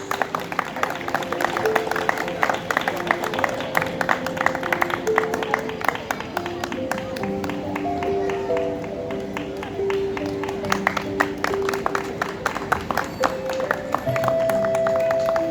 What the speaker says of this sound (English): Kindly give a big round of applause.